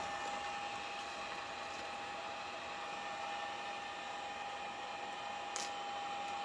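Heat gun blowing hot air over tint film on a Tesla Model 3 taillight, a steady close whirring hiss with a constant tone that holds unbroken throughout with no talking.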